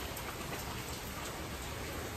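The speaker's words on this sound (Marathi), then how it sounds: "सकाळच्यानी असलो पाऊस पडटा कंटिन्यू सारखं" Continuous steady rain falling in the morning, a dense, even hiss of drops with no breaks, fairly quiet and heard alone without voices or thunder.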